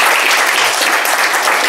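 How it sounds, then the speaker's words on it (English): An audience at a London music industry talk bursts into dense, steady applause, loud and sustained throughout. "some round of applause."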